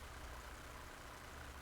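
A truck engine passing outside, heard as a faint, steady low rumble that holds evenly throughout with no voices.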